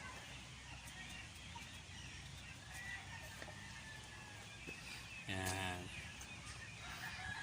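Gamecocks kept for fighting on a farm in San Jose, Nueva Ecija, give one short, faint rooster call amid quiet background, with people talking lightly nearby.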